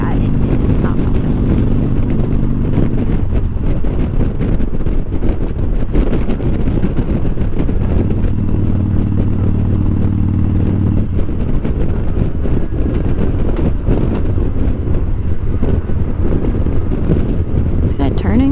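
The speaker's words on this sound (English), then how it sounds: "It is really windy today" Heavy wind buffets the microphone in a constant roar while riding a motorcycle behind another rider, an engine humming underneath; the noise stays loud and rough throughout with no clear speech.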